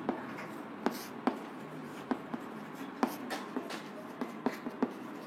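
A pen scratches steadily across paper as a chemistry definition is written out by hand, with small, close taps and strokes at an irregular rhythm against quiet room tone.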